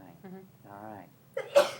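A single sharp sneeze bursts out at the end after a few quiet murmured words from a person nearby.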